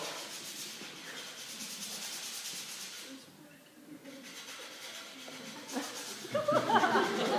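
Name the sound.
sanding the edges of wood with heavy duty sandpaper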